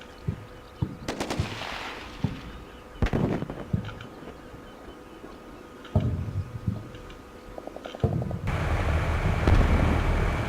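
Bursts of enemy heavy machine gun fire and explosions in the Combat Mission: Shock Force Marines campaign, sharp rapid cracks arriving in clusters amid wind, with a louder rumbling barrage near the end.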